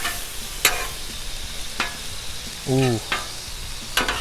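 Cajun shrimp and smoked sausage sizzle in butter on a Blackstone griddle, a steady close frying hiss broken by sharp spatula scrapes and clanks, with a brief voiced exclamation.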